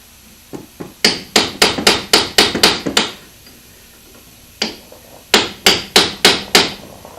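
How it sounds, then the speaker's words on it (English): A hammer strikes a socket extender during car repair in an automotive shop, in two loud, close bursts of rapid, evenly paced metallic blows with a short pause between them. No one talks during the hammering. "Extender and a hammer is what I'm going to go with."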